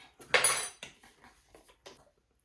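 A spoon clinks and scrapes against an almond butter jar, one louder metallic clatter followed by several lighter taps, close and fairly quiet, with no talking.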